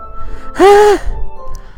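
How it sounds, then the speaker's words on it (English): A sharp inhale in the game Doki Doki Literature Club, like air sucked through teeth: one short, loud breath lasting under half a second, alone against a faint background. "A sharp inhale, like someone sucking air through their teeth."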